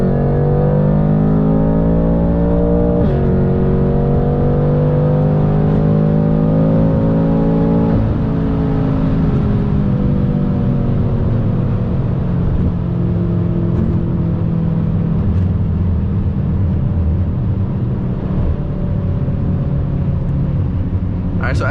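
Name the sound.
BMW F10 M5 with JB4 tune accelerating hard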